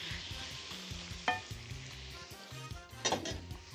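Minced meat and translucent onions fry together in a pan, a continuous crackling sizzle with scraping stir strokes and a couple of louder clatters.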